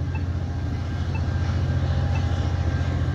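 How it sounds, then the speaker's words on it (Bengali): A train rolls past a railroad crossing gate on the approach to Antioch station, giving a steady, loud, continuous low rumble with faint rhythmic wheel clatter throughout. "এই যে ট্রেনটি রেল রোড গেট পার হচ্ছে"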